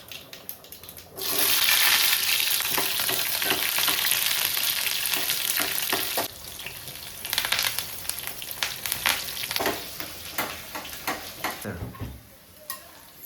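Mustard seeds and sambar onions frying in hot oil for a tempering, a loud steady sizzle that jumps in after a second, then eases and surges again with crackling pops and stirring clatter, no talk.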